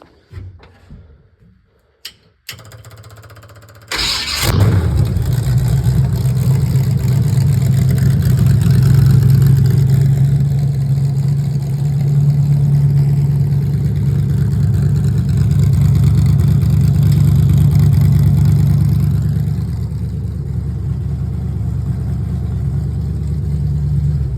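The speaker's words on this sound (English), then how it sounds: "I'll start it up real quick." A demolition derby car engine, fitted with an 80s Lincoln hood, cranks briefly, catches with a loud burst, then runs at a steady rumbling idle for about twenty seconds, close by with no talk.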